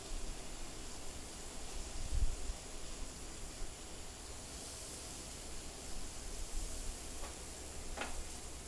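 Spare ribs sizzle on a Weber grill over direct heat, a steady soft frying hiss with faint crackles that runs on alone without a break.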